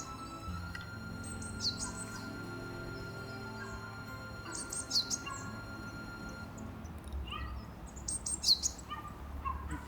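Several birds call around a snowy park in Sapporo, Hokkaido: short high chirps and tweets come in scattered bursts over a steady low background rumble, with no talking.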